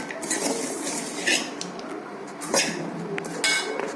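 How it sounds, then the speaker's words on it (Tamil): A snack mixture is stirred in a bowl, giving quick metallic clinks and scrapes of a utensil against the bowl in uneven bursts, close up over a soft background hiss. "நெக்ஸ்ட் வந்து நல்லா கிளறிக்கோங்க."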